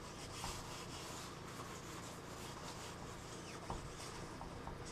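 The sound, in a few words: wet sanding paint with 1500 grit sandpaper on sponge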